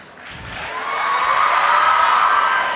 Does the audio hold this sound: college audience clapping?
yes